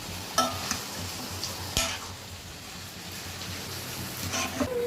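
Chicken with ginger-garlic-pepper paste and turmeric sizzles steadily in a pan, with occasional sharp stirring clinks from a utensil over the continuous frying hiss.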